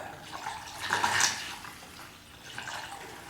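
Antifreeze poured into the cooling system of a 1976 Corvette restomod, a soft close gurgling trickle of liquid that swells briefly then settles into a faint steady pour, no talk.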